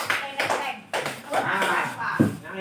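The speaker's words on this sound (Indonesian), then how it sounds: "Tepuk 5 kali." Hands clap in a short, uneven series as part of a classroom clapping routine in an Indonesian school setting, with voices talking over and between the sharp claps.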